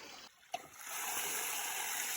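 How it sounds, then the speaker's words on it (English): Water from a pond forced through a pipe for a ram pump setup rushes in a steady broadband gush after a brief quiet gap and a small splash, holding strong to the end. "It goes strong like that and then it dies out."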